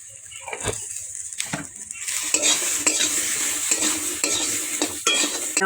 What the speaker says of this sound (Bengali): নেড়ে চেড়ে নেব। অল্প লবণ দেব, অল্প হলুদ গুঁড়ো